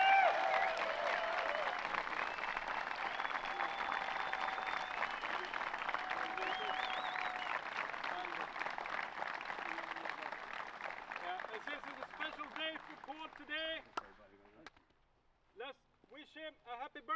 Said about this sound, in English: Huge round of applause for the 2023 Skelleftea Open champion